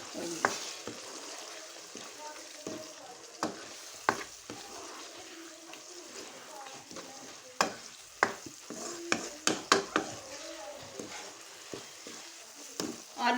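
Eggs with potatoes and peas frying in a pan while being stirred, a steady close sizzle broken by scattered sharp utensil scrapes and clicks against the pan.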